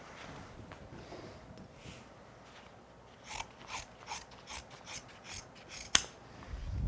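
Scissors cut carpet binding in a rug fabrication workshop, giving a quick series of about eight crisp snips in the second half. Low background noise fills the start, and no one speaks.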